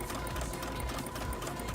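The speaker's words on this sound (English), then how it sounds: "you're going to go ahead and sew that so you can move on to the next step" A sewing machine stitches fabric for an elastic skirt, running in a continuous close whir with a rapid, even mechanical chatter and no talk.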